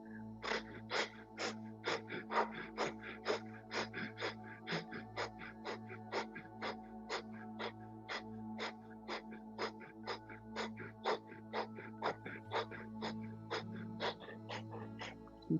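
Rapid, forceful breath-of-fire breathing in a kundalini yoga exercise, a long steady train of sharp nasal exhales at about two per second, close and alone without talk.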